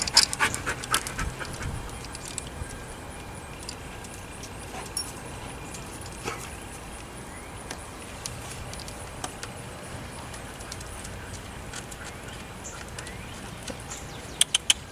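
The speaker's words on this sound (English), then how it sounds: "Amber's dog ran over here." A dog pants steadily close by outdoors for the whole stretch, with faint jangling and scattered small knocks over low background noise.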